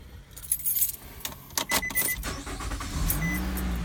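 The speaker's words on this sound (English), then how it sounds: "let's turn on the car here" Keys jangle in a car ignition as the car is switched on, a few metallic rattles and clicks followed by a steady low hum as the electrics and engine come on, close and fairly loud.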